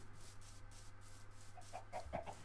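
Chickens in the video game Minecraft give a few short, faint clucks near the end, heard over a low background hum with no voices.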